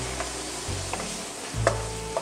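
Small cubes of beef masala boti roast in a pan while being stirred, giving a quiet sizzle with soft scraping strokes of the spoon, heard alone and close up.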